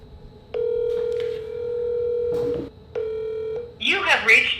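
A phone call being placed: a steady electronic tone sounds, stops, then returns, giving way to a voice at the end, all clear and close over a quiet line.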